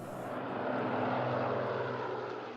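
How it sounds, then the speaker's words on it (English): Avro Lancaster bomber engines revving, a loud, steady propeller-engine drone that swells slightly mid-way and holds throughout, with no voices. "When you hear those engines revving up, you know, there just isn't another sound like it."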